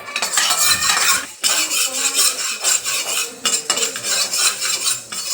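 A metal spoon scrapes and stirs cumin and fenugreek seeds roasting in a pan, with repeated loud rasping strokes and brief pauses, close and alone.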